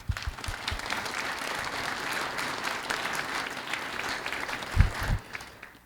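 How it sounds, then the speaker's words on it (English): Steady audience applause at a district club midterm meeting, moderately loud and sustained for several seconds, with a few low thumps near the end. "Round of applause."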